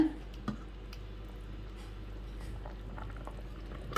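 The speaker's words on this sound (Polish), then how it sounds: "Jak widzimy, ładnie to nam już się gotuje." A pot of chulent (hamin), a Jewish stew of the kind cooked for Shabbat, simmering with soft, faint bubbling and occasional small pops, close and quiet, with no talk.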